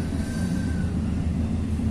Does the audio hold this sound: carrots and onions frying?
no